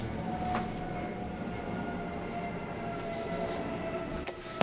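A low, broad rumble of a military plane passing overhead, steady and moderately loud, ending with a couple of sharp nearby clicks.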